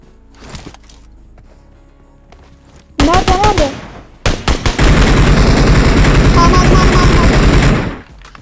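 Firefight in the battle royale game PUBG Mobile: rapid automatic gunfire rattles loud and close in sustained bursts, preceded by quieter distant shots, with someone talking briefly over it.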